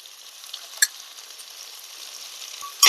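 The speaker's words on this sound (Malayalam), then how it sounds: "ഇളക്കി കൊടുക്കാം നല്ലപോലെ" Prawns with green peppercorns fry in a pan, giving a soft steady sizzle with a couple of sharp clinks of a spoon against the pan, the last one louder near the end.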